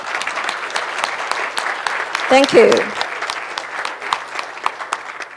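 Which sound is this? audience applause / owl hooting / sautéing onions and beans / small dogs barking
audience applause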